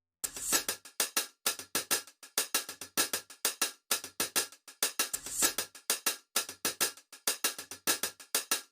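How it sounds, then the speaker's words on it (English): Crisp hi-hat-like percussion loops in an Afrobeat groove, short bright ticks in a steady syncopated pattern, clear and fairly quiet with nothing else playing. "hi-hat-ish like sound from loops"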